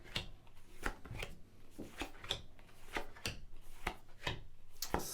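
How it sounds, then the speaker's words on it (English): Tarot cards are laid down one at a time on a table, giving soft close slaps and slides in a quick, uneven rhythm, quiet and alone. "just lay down your 10 cards on the table"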